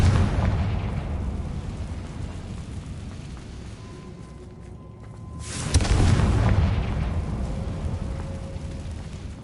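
Fire spell explosions in the video game Hogwarts Legacy: a loud, rumbling blast fades away, then a second deep boom bursts in and rolls on with a long, heavy tail.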